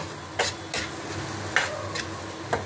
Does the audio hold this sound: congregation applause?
no